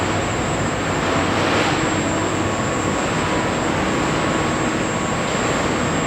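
An Acra knee-type milling machine, model AM2AC built in 2014, runs with an inverter-driven R8 spindle, giving a steady broadband whir with a faint high tonal whine. The sound holds constant and moderately loud throughout, with no talk.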